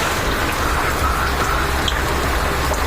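Heavy early-morning rain in a village near Thoothukudi, pouring steadily and loudly as a dense, even hiss of drops on surfaces throughout, with no voices.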